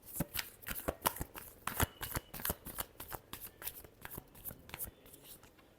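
Tarot cards being shuffled: a quiet, rapid run of crisp riffling clicks and flutters that continues evenly for several seconds, close up.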